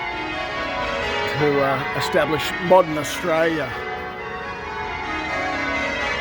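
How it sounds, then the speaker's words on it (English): Church bells toll through a Sydney street during a service, a steady ringing that stays loud beneath and around someone talking as he walks. "the bells are tolling and you probably can't hear me anyway"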